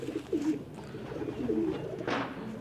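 Lal Malo and Shakro Malo breed pigeons coo in a few soft, low rolling calls, close by, with no talking.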